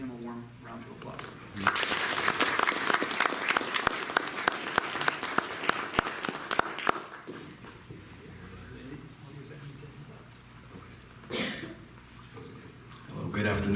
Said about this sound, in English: So help me in giving him a warm round of applause.